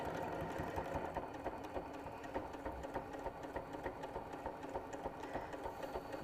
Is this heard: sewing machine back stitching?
yes